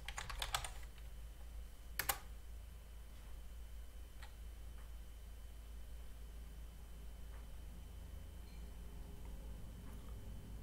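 Keystrokes on a computer keyboard type a terminal install command: a quick cluster of clicks, a sharp double tap, then sparse faint ticks over quiet room hiss.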